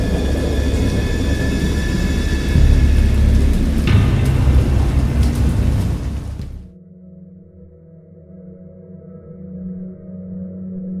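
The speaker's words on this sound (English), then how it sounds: "I heard pearls of thunder and other tones which nature utters only in her wildest moods." Stormy weather in a narrative video game: a dense, roaring wash of heavy rain and rumbling thunder fills the first six seconds, then cuts abruptly to a quieter low, droning ambience that lingers to the end.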